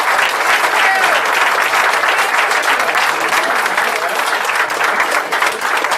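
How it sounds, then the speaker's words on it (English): An audience applauds at a solidarity sing-along, with dense, steady clapping close by and filling the whole stretch, a few voices mixed faintly into the noise. "I just want us all to applaud these people"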